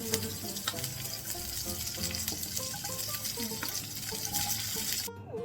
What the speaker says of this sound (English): Chili and jeera for fry.